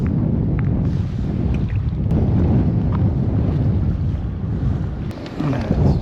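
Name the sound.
wind blowing while kayak fishing on a bay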